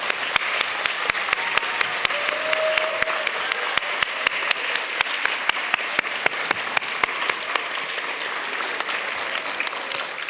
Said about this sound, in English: I'd like the students who are here to stand and be applauded